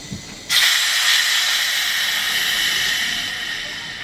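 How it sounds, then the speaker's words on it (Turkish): Pressurized air hisses steadily out of a soda maker bottle as its cap is opened, a sudden loud onset that holds and slowly fades over several seconds, close by with no talk. "içindeki hava çıkıyor ve bakın artık bir soda oldu bu"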